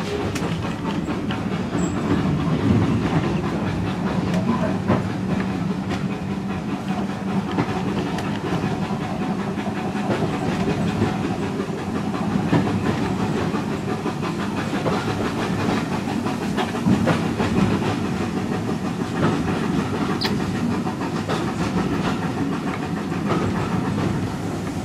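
A steam train leaving Highley station on the Severn Valley Railway rumbles along steadily with a low clattering roll and faint hissing, continuous throughout with no voices.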